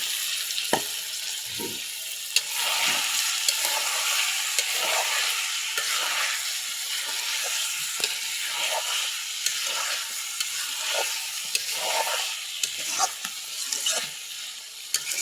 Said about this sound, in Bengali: মাংসগুলো ভালোভাবে কষাচ্ছি। এখন এই পর্যায়ে আলু ভাজা আলুগুলো দিয়ে দিলাম।